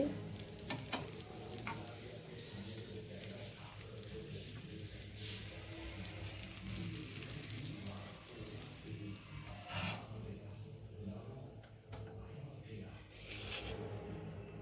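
Dosa batter sizzles on a hot griddle for masala dosa, a steady soft frying hiss holding throughout at low level, with no talk over it.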